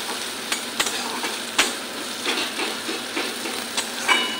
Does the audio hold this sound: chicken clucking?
no